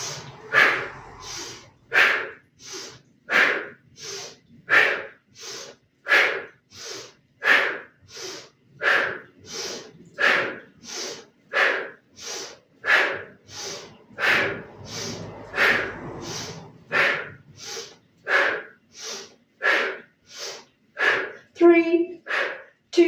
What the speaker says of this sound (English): as you exhale, we're going to exhale through an O-shaped mouth, like you're blowing out a gobstopper